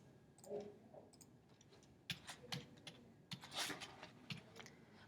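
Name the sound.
typing an equation into a calculator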